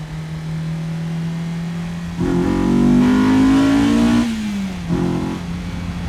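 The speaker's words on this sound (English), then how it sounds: "there's something about a naturally aspirated engine that I love" Honda S2000 with a naturally aspirated engine, heard as a steady idle that swells into a loud rising rev, holds a sustained climbing pitch, drops back, then blips once more near the end.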